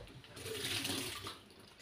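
Carrots rinsed under a running kitchen tap, a brief steady gush of water splashing for under two seconds, close and moderately loud, with no talking.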